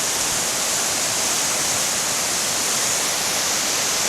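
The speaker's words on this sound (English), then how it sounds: "Look how much white water's over there." A river in spate after heavy rain, white water roaring as a steady, dense, unbroken rush of noise that stays loud and even throughout, with no voices or other sounds cutting through.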